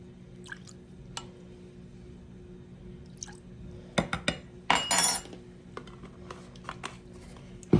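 Thick Worcestershire sauce measured out with a tablespoon in a home kitchen: soft drips and small wet splashes, a few faint clinks of the spoon, and a brief louder pour, close and quiet with no talking.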